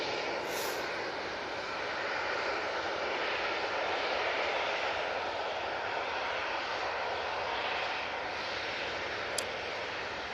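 A propeller airliner in aviation colours sits at Manchester Airport. Its engines give a steady broadband drone that holds evenly throughout, with a faint high chirp now and then and no talk.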